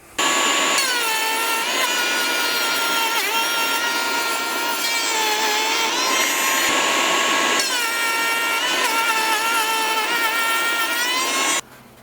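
Router cutting a tenon in a wooden workpiece held in a shop-made adjustable jig and backed by scrap, a loud steady high-pitched whine with shifting cutting tones running for about eleven seconds before stopping abruptly.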